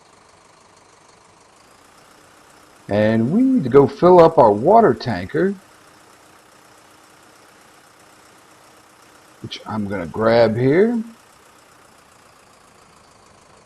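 A Zetor tractor idles with a low, steady engine hum and faint knocking in Farming Simulator 15 on a vegetable greenhouse farm, running beneath two stretches of someone talking.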